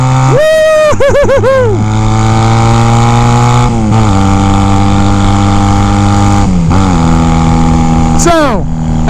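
A small motorcycle engine labors up a hill, loud and close, its pitch climbing through several rapid revs and gear changes before settling into a steady drone, with a rider's voice over it.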